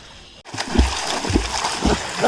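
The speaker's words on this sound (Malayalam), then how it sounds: "ഷിയാസേ ഞാൻ പല പ്രാവശ്യം പറഞ്ഞു വെള്ളം തെറിപ്പിക്കാൻ" People swimming in the Karamana river splash the water, with a few heavy, rhythmic splashes rising over steady flowing-water noise close by.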